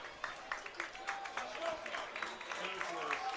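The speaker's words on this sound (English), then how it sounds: "And there's a clapping" Scattered applause from a crowd at a football game in a large space, light and somewhat distant, with a voice talking over it at the end of the third quarter.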